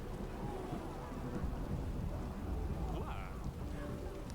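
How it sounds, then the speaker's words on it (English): A video game thunderstorm, with heavy rain hissing continuously over low rolling thunder and a faint voice somewhere in the background. "Rain, ha!"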